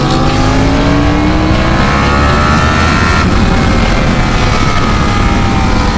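A Yamaha R1 motorcycle accelerates hard on a canyon road, its engine roaring continuously with rising pitch under heavy, steady wind rush.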